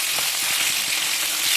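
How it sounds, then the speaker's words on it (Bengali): Snakehead fish frying in a pan of hot oil while being stirred, giving a steady, loud, close sizzle with faint scraping movements underneath and no voices. "এবার আমি নাড়া দেবো।"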